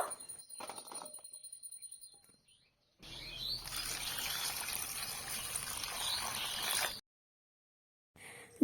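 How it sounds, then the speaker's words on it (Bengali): Hog plums are poured into a bowl of water for washing. A steady, close rushing and splashing pour lasts about four seconds, framed by quieter handling noises before it and a short gap after. "এবার আমি আমরাগুলি একটা পাত্রে ঢেলে নিচ্ছি ভালোভাবে ধুয়ে নেবার জন্য"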